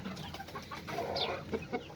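Chickens and a rooster cluck softly nearby in a backyard coop, a brief jumble of low clucks and a few sharper calls over faint background noise.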